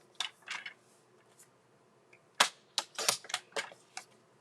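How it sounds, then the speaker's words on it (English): Scissors trim a thin sliver off the edge of a paper greeting card: a quick burst of crisp close snips, a short pause, then a denser run of sharp cutting clicks. "So I just cut off just a little so that that little stripe shows"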